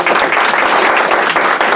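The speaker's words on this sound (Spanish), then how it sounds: "Dele un aplauso al Señor." A church congregation breaks into brief, loud applause, a close, continuous flurry of hand claps with a few sharper individual claps.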